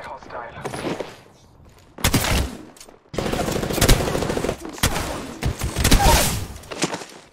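Apex Legends gunfire in a match, bursts of rapid shots and heavy reports breaking out after a quieter opening, mixed with game voice lines and other action sounds.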